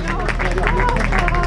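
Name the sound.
audience applauding at a cycling time-trial podium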